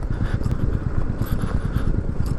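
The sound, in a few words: motorcycle riding on a rough mountain road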